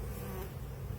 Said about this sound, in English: there's actually a bee right on the camera, right below the lens right now